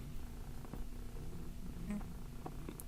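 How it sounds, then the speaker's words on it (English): A white cat on a person's shoulder purring right against the microphone, a close, continuous low rumbling with faint rustling and a few small sounds on top. "white shoes purring, interfering with the mic"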